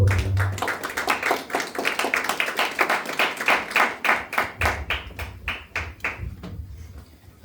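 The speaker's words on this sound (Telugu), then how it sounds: "చప్పట్లు కొట్టుకుంటారు" Audience in a church service clapping along in a steady rhythmic beat, many hands together, close and fairly loud, fading out toward the end.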